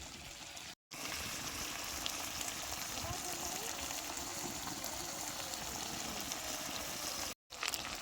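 Mutton pieces sizzle in hot oil in a pan as a little water is poured in, a steady loud broadband hiss and bubbling that runs almost unbroken, with two brief dropouts.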